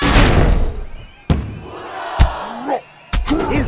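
Crowd reaction in the wrestling video game Lucha Libre: Heroes Del Ring, a burst of loud crowd roar with sharp thuds and slams punctuating it, sounds rising and dropping in quick bursts.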